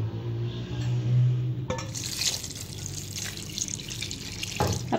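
Water splashes and pours steadily into a cooking pot of chicken, ginger, green chillies, tomatoes and spices after a brief hum, with a faint clatter near the end.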